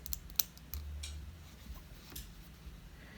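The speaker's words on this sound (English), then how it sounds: "I didn't pick the best scissors for these for cutting this" Scissors snipping small notches into a curved fabric seam while making a courtesy mask, giving a few quiet, sparse clicks and snips close by in a hushed room.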